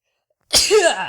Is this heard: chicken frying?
no